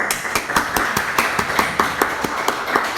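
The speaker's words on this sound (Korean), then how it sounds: "박수 한번." Church congregation clapping in a rhythmic, even beat, about five claps per second, close and crisp, with no talk over it.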